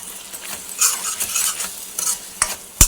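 A spoon scrapes and stirs through an amaranth leaf and tomato curry frying in oil in a pan, with soft sizzling under several scraping strokes and a sharp clink at the end.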